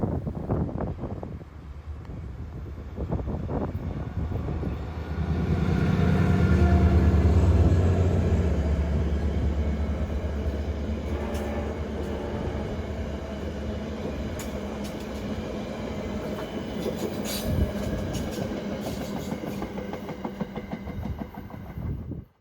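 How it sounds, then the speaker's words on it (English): A VRE commuter train rumbles across Long Bridge in Washington DC, heard from aboard a Metro train, with a steady rolling roar that swells early then continues evenly under wind noise and faint rail clatter. "Here's a look at part of Long Bridge itself with the VRE train crossing as seen from a Metro train."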